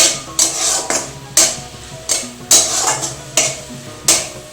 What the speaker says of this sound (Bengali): আমি নারকেলটা নেড়ে নেড়ে শুকনো শুকনো করে নেব